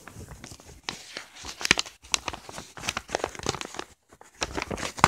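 A paper envelope being handled and torn open, with irregular crinkling, rustling and ripping bursts close by, broken by brief pauses.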